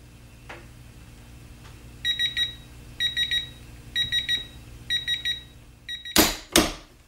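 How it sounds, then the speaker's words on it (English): Torque wrench being pulled to 100 foot-pounds on a Tower of Torque test socket, setting off five short bursts of rapid high-pitched electronic beeping at regular intervals over a low hum, ending with two loud close clunks. "We're gonna go ahead and see what this does when we hit it at 100 foot-pounds."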